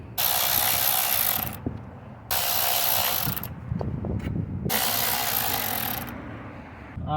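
Ratchet wrench removing engine bolts on a Lexus ES300, with loud runs of fast clicking broken by brief pauses and some light metal handling between them.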